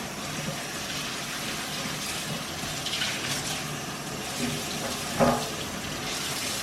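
A kitchen tap runs steadily while pork ribs are rinsed under it for BBQ, producing a loud, continuous splashing rush close by with a brief clatter near the end.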